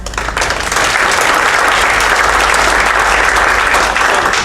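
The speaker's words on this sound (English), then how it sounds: "I'd like everyone to give Nancy a big round of applause" Loud, full audience applause for Nancy at a customer service event, a thick wash of many hands clapping that swells quickly and holds steady and close.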